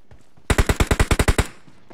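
A rapid burst of about ten automatic gunshots in PUBG Mobile, loud and evenly spaced, with no talk over it.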